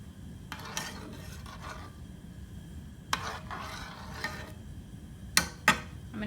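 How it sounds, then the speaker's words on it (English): A teaspoon stirring chai in a pan, with a few scraping strokes and sharp clinks of metal against the pan spread across several seconds over a low background hum. "I'm going to give that a quick mix."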